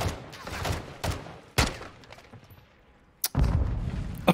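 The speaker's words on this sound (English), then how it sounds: "Grenade, you gonna go off?" A grenade goes off in the Call of Duty Modern Warfare 2 game, heard as sharp booming blasts among gunfire, with a loud final burst after a short lull.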